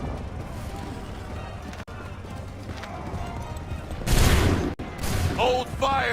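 Musket volley gunfire in the Assassin's Creed 3 video game, a loud burst of massed shots erupting around the four-second mark over a busy battlefield bed with horse hooves, shouting and a horse whinny near the end.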